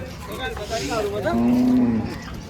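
A seven- to eight-month-old calf moos once at a cattle market in Chalisgaon, a close, loud, drawn-out low call rising from a short lead-in, with faint crowd noise behind.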